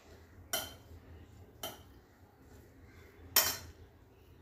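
A spoon mixes black pepper powder into a dish in a quiet kitchen: three sharp metallic clinks against the bowl, spaced about a second or more apart, with no talk.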